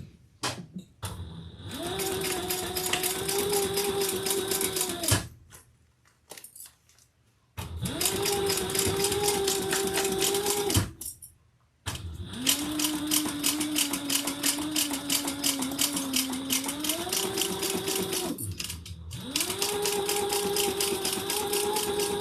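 A sewing machine stitches through leather for a compact clutch wallet in long steady runs with a humming motor. Brief pauses and clicks separate the runs.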